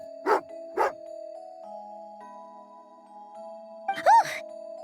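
Angry dog barking in a video game: two sharp barks near the start, then a louder growling yelp toward the end, set over a steady sustained musical drone.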